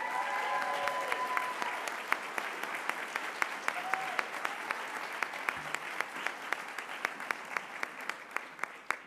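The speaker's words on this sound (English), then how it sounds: "One more big round of applause for 40 and 40-plus years." Sustained audience applause at a service recognition awards ceremony, steady clapping from a crowd with some distinct nearby claps standing out in a regular rhythm, and brief voices underneath.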